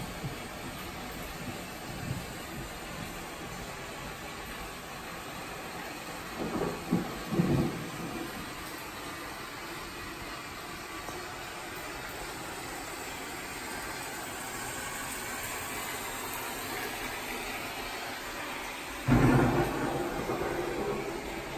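Thunderstorm ambience from a Philips Hue light app, with steady rain-like hiss throughout, a low rumble of thunder near the middle and a louder, sharper thunderclap near the end.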